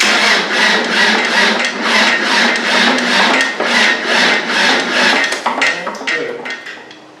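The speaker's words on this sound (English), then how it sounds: "So I'll just keep cranking it, get the diesel through." A Land Rover 300Tdi diesel engine cranks over on a small, weak battery, giving a steady, rapid rhythmic churning of the starter that runs loud and close before slowing and fading toward the end.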